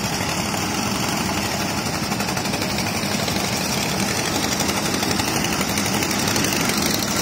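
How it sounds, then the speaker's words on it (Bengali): Sand extraction machinery running on a trawler on the Jadukata river near Taherpur, Sylhet, producing a loud, unbroken engine drone with a steady vibrating chug that holds constant from start to end. "এই যে বালু উত্তোলন করতেছে"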